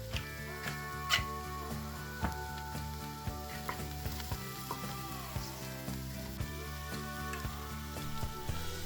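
Garlic sizzling in a pan for a tomato bisque, a continuous gentle frying hiss with scattered light crackles and spatters, fairly quiet and steady, no talking.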